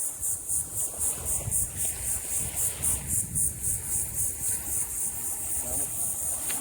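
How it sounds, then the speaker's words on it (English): Cicadas drone in a steady pulsing chorus along a coastal nature trail at Fort Morgan in Gulf Shores, Alabama, a bright rhythmic buzz repeating about twice per second over faint wind and rustling. "You hear that? And they call those cicadas."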